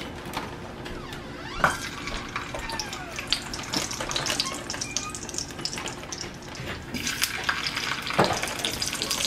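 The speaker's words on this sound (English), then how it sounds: "So when you put them in, it might sizzle a little bit." Food sizzles and crackles in hot oil in a frying pan for a home-cooked meal, a soft, steady spatter close by, with occasional clinks from utensils and no talking.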